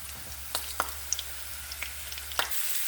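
Diced ham added to a pan of potatoes and broccoli, giving a quiet, low sizzle punctuated by a few soft clicks and pops from the food settling in the pan.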